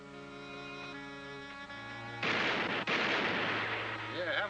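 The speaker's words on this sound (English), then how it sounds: "having a shooting match right outside on the street" Gunfire from a shooting match out in a street rings out as a sudden loud burst with a second crack shortly after, over a steady background hum.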